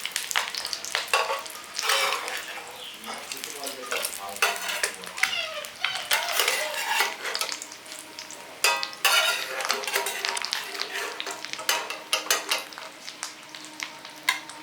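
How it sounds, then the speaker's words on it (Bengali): Duck egg patties fry in hot oil in a wok, giving a steady sizzle with bursts of crackling and occasional scraping and stirring clatter throughout, moderately loud and close. "এই যে আমার দুটো সাইড লাল করে ভাজা হয়ে গেছে, বার করে নিচ্ছি যে কটা হয়েছে।"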